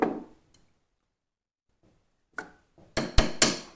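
A hammer drives a pin into a CZ 75B pistol: a single faint tap, then near silence, then a quick cluster of sharp, close metallic taps at the end.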